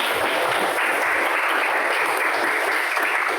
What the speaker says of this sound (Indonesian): tepuk tangan buat Kirana ya